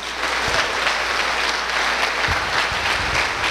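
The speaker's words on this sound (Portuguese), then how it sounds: "Vamos dar um aplauso para esse pessoal?" A church congregation applauds in a sustained, even roar of many clapping hands, with a few louder low thumps standing out near the start and middle.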